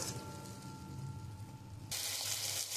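Spice paste for a mustard rohu fish curry, with green chillies added, fries steadily in a pan. A soft continuous sizzle runs throughout and grows noticeably louder and brighter partway through, with no voices.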